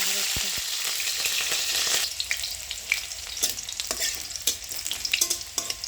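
Food frying in hot mustard oil, a steady close sizzle with scattered pops and sharp crackles, plus stirring clatter as the spitting grows busier partway through.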